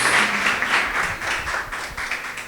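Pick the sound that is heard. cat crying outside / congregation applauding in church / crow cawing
congregation applauding in church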